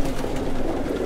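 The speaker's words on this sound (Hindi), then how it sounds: "पुराना कबूतर है" An old green pigeon coos in a home loft, a soft low repeated cooing close to the microphone over a steady background murmur.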